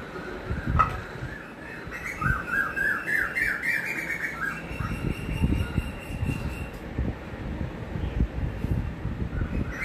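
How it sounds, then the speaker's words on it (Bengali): Many birds call around a house in a busy, continuous chorus of squawks and chirps, fairly faint and overlapping, with a repeated trill standing out early on. "তবে এখানে শুনতে পাচ্ছেন নিশ্চয়ই কত পাখির ডাক।"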